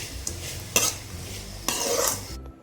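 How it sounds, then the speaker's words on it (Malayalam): Onions being sautéed with salt in a pan, a soft steady sizzle under repeated scrapes and stirs of a utensil against the pan, with a few sharper clinks. "അപ്പോൾ നമുക്ക് നന്നായിട്ട് വഴറ്റിയെടുക്കാം."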